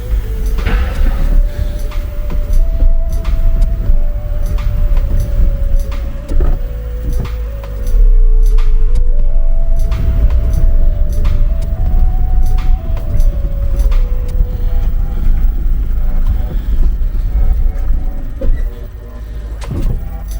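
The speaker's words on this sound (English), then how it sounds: "But I'll try and bed the brakes in a bit." A car with a newly freed seized brake caliper idles and rolls slowly around a yard to bed in the brakes, steady engine hum with a wavering tone rising and falling, close and continuous.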